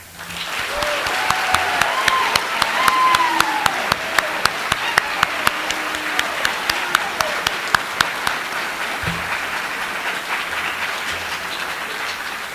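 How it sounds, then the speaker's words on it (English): An audience at the Strongsville High School spring band concert applauds steadily for several seconds, the dense clapping filling the hall with crisp nearby claps standing out, before gradually thinning, with faint voices underneath. "Can we please have a round of applause for all these amazing people?"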